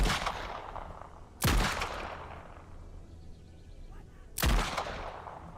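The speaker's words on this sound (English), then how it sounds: "I'm going to try the Reichs revolver" Three loud, sharp revolver shots from a Reichsrevolver in the WWI game Over the Top, each a hard crack with a long ringing decay, spaced a few seconds apart over quiet background.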